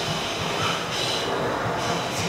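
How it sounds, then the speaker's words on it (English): A train rolls past as a loud, continuous rumble and roar that fills the short span without a break, with no voices over it. "Excuse that noise, train."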